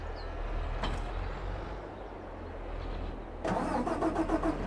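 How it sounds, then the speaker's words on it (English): A tractor engine in the farming video game Farming Simulator 22 rumbles steadily throughout, with a brief knock near the start and the engine sound swelling louder and busier toward the end. "I can hear a tractor moving."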